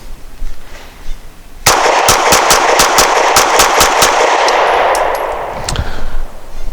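A Springfield XDe 9mm pistol fires a rapid string of about a dozen loud, close, sharp shots, followed by ringing echoes and a final shot.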